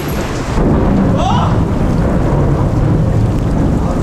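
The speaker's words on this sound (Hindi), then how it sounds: "बहुत तेज बादल फट रहा है" Heavy cloudburst rain and rolling thunder heard from inside a cave in a Chhattisgarh forest, a loud continuous roar of downpour with a deep rumbling rise of thunder through the middle.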